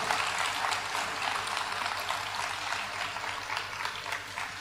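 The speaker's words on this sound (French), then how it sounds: "Je crois que ça s'applaudit bien fort, mesdames, messieurs" Steady, sustained applause from an audience at a town New Year's greetings ceremony in Dourges, a dense wash of clapping that holds at an even level throughout, with no voices standing out.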